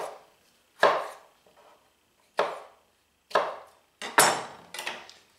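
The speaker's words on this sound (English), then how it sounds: "Just cutting mine into thirds and then cutting crosswise" A knife chops vegetables into thirds and then crosswise on a cutting board, five or six sharp, close thuds spaced irregularly with short silences between them.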